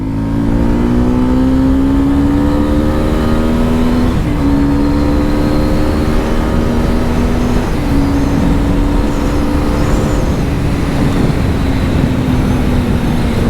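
A Suzuki Gixxer SF 250 motorcycle engine revs loud and close, its rising tone climbing again after each brief dip, holding steady and strong from start to end with no voices over it.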